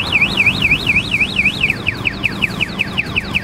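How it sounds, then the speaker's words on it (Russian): The alarm system on a Skyboard BR80 electric trike sounds loudly and close up. A warbling siren rises and falls several times, then changes to a rapid series of repeated falling chirps, over a steady hum. "помимо сигнализационной системы с автоматической блокировкой колес"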